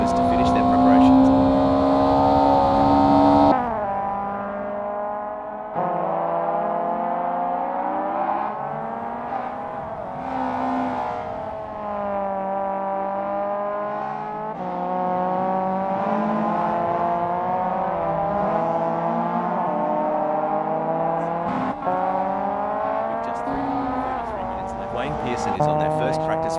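A Mazda Eunos Roadster's engine drones around Tsukuba circuit in the racing game Assetto Corsa, a loud, sustained whine that climbs in pitch through each gear and drops sharply at every shift, with brief tire squeal between pulls.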